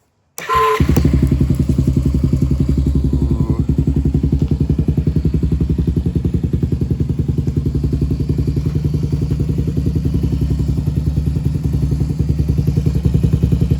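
A loud Honda TRX90 ATV engine with an HMF aftermarket exhaust fires up and settles into a throaty, rapid-pulsing idle, close and continuous throughout.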